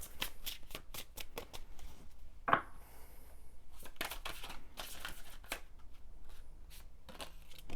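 Tarot cards being shuffled and drawn by hand, a run of quick crisp riffling flutters and soft slaps close up, with one sharper card snap partway through and no talking.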